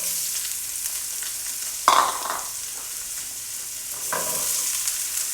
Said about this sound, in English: we're gonna throw in our onions and our carrots.